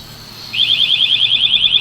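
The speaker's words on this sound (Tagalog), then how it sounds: "bago siya mag-alarm, tutunog siya ng 5 na beep bago siya mag-alarm" A motorcycle disc lock alarm goes off close by: after a short quiet moment, a loud, rapid, high-pitched pulsing beep starts and keeps going without a break.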